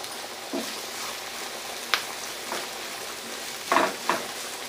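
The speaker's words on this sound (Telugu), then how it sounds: "వెల్లుల్లి ముక్కలు, అల్లం ముక్కలు వేసి వేగినాక పచ్చిమిర్చి, అల్లం, క్యారెట్ ముక్కలు కూడా వేసేయాలి." Garlic, ginger, green chili and carrot pieces frying in hot oil for tomato pasta, a soft steady sizzle broken by a few short scraping stirs, close and fairly quiet, with no talking.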